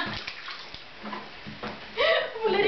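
A child splashes and sloshes water in a bathtub during bath time, producing irregular splashes and a louder surge of sloshing near the end, with some voices around.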